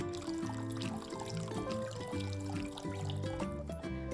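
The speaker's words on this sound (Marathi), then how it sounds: "1 ग्लास मी पाणी घालते आणि मिक्स करते." Water is poured from a glass into a bowl of curd and bajra flour for a pithla batter, a soft trickle and splash heard faintly under kitchen background noise with no talking.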